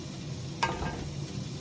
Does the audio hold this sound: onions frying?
yes